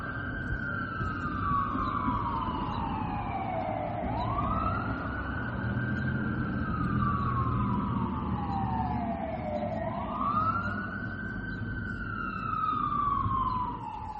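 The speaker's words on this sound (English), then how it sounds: "Uh-oh, let's see. Sirens." A wailing siren rises and falls in long, slow sweeps, repeating several times with steady traffic rumble underneath.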